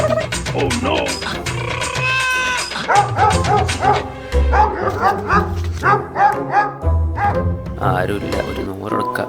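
A dog barks repeatedly during a Christmas carol comedy skit, the short yaps mixed into loud, dense singing and voices that run through the whole stretch.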